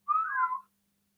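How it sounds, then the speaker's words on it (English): A person whistles one short, clear note that slides gently in pitch and lasts about half a second, close and clean, with silence after it. "Give a little whistle."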